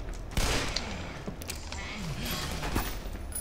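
Gunfire in the video game Black Mesa: Source, scattered bursts of shots and impacts over a rumbling game soundscape, with a voice briefly audible.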